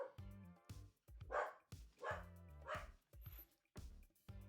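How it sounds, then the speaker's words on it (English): Several dogs bark repeatedly at a squirrel, loud and close, in short sharp bursts with yips and brief whimpers between them. "You can hear them. They're barking at the squirrel again."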